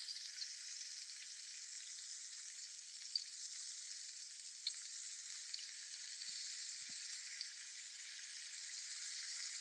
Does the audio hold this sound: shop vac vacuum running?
no